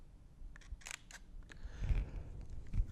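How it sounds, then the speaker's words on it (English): A mirrorless camera fires its shutter in a few short, crisp mechanical clicks spaced unevenly over a few seconds, close and quiet, with no talking. "you can hear it beep before you hear the shutter release"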